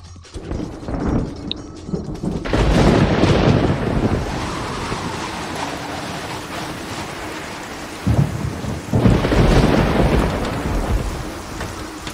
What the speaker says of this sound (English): Go away, storm.